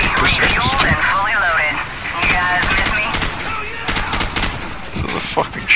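Bursts of rapid automatic gunfire in Call of Duty 4: Modern Warfare, with sharp cracks and short fusillades repeating over several seconds, loud and close, while voices shout over the shooting.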